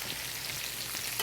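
Steak fries in a pan with butter and garlic, a dense close hiss of sizzling fat with faint scraping, brief and unbroken, no voices.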